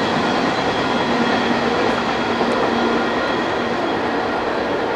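CSX IO-10 freight train rolling past on a wet, cold, windy day, a continuous loud rumble with faint rail clatter and rain-soaked road noise throughout, no talking.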